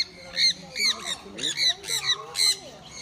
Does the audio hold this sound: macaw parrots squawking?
yes